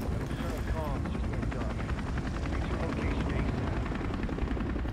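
A helicopter in Rainbow Six Siege Outbreak drones continuously with a loud, near rotor roar and a steady chopping texture, with some game noise mixed in.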